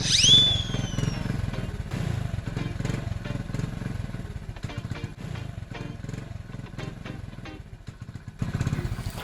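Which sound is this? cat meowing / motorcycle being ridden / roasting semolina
motorcycle being ridden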